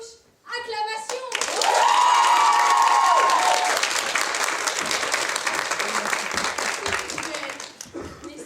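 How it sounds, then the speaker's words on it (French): A theatre audience bursts into loud applause and cheering that swells quickly, holds as dense continuous clapping with a sustained shout, then tapers off near the end. "Acclamation."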